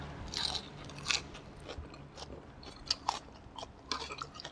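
Someone bites into crisp raw vegetables eaten with a spicy Thai papaya-style salad with tender chicken feet, giving a few loud close crunches followed by softer chewing, with no talk.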